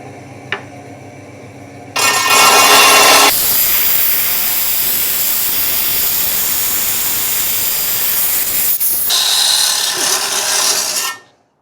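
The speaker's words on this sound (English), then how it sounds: "we're gonna go ahead and get cutting on this machine here" Loud rock saw whines through an orange gemstone rock, starting abruptly after a quiet moment and grinding steadily for about nine seconds with a harsh, hissing cut before stopping.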